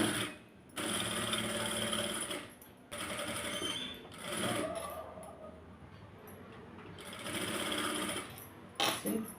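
A sewing machine stitches layers of dhoti pant cloth together in a tailoring setting, running in long steady whirring bursts separated by brief pauses, close and loud with no talk.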